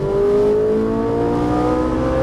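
A Ferrari 458 Italia engine howls close and loud on a race track, its pitch climbing steadily as it accelerates, with no talking.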